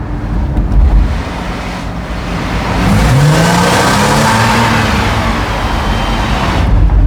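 Race cars passing on the Fuji Speedway track overhead, a loud rising and falling engine whoosh from above with heavy wind buffeting on the microphone, steady and without voices.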